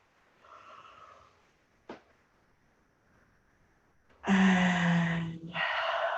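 Long audible yawn with breathy voicing near the end, preceded by quieter breaths and a short sharp intake, close and alone with no speech.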